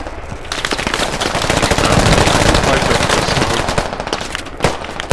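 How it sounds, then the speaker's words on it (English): Rapid automatic gunfire in the military shooter game Squad, a loud, sustained burst of shots fired near a barn window, crackling continuously before tapering off with a few isolated bangs. "He was shooting through the window."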